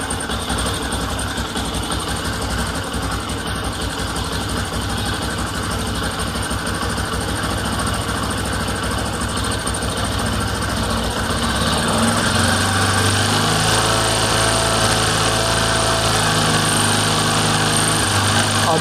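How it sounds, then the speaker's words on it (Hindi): A motorcycle engine idles unevenly during carburettor adjustment, a steady close mechanical chatter with a slight pulsing fluctuation in speed throughout, its tone dropping a little partway through. "जैसे कि अभी जो फ्लिकर कर रहा है ये इंजन, जैसे एक पल्स नीचे एक पल्स ऊपर बहुत ज़्यादा वाइब्रेट कर रहा है"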